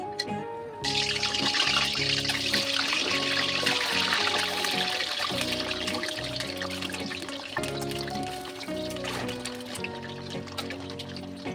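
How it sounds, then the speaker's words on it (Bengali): Water from a kitchen tap splashes and trickles steadily as potatoes are rinsed under it, a close, continuous wash with rattling and clunking of the potatoes and a bowl throughout. "তারপর চলে গেলাম আমি আলুটা ভালো করে ধুয়ে নিতে"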